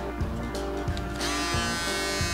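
An electric shaver buzzes steadily and up close while cutting a bald fade on blonde hair, with a few brief rhythmic dips as it passes over the scalp and a brighter, louder tone in the second half.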